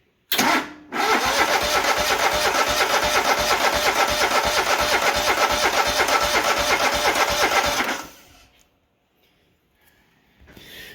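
The engine of a Grazer G2297K mower, under revival with fuel system trouble, cranks and catches into a loud, rough, rapidly pulsing run for about seven seconds, then cuts out to near silence.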